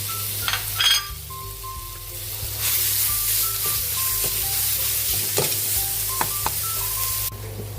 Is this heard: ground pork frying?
yes